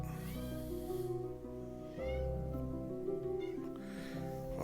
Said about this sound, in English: I have a cat coming.